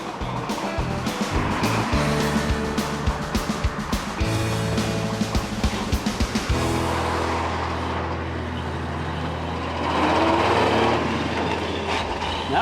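A 1953 Chevy 3100 pickup with an inline six drives along, its engine droning steadily and shifting pitch as it moves, with rattles and road noise close by throughout.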